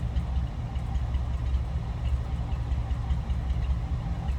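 A 1955 Ford Fairlane Crown Victoria with stock exhaust and cam idles steadily, a low, even rumble heard close from the rear of the car with no voices.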